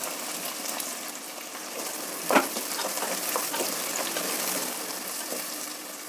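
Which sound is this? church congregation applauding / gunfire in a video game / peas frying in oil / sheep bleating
peas frying in oil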